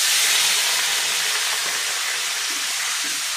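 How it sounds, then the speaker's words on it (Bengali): Spiced water hitting a pan of fried potatoes, a loud, steady broadband sizzling hiss filling the whole moment with no break. "এখন মশলার জলটা দিয়ে দিব।"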